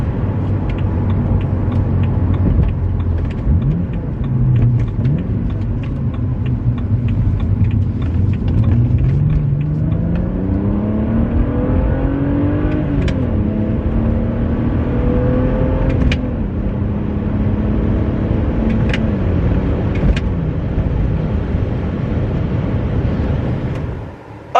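A naturally aspirated straight-six engine in a BMW 130i drones steadily, heard from inside the car, with rising and falling revs as it pulls through the gears and no talking.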